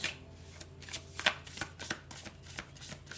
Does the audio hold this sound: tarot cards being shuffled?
yes